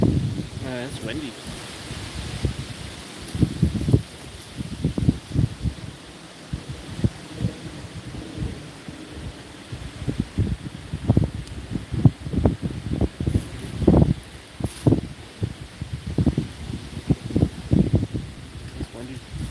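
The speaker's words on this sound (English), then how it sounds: "It's windy." Wind blows outdoors and buffets the microphone in irregular low rumbling gusts, some of them sharp, with a person talking throughout.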